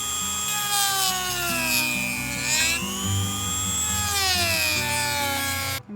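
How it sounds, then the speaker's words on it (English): Power drill boring holes into a pop-up camper body to stop a crack from spreading, a loud, close whine that rises and falls in pitch as the bit bites, with a steady low hum beneath. "Drilling holes."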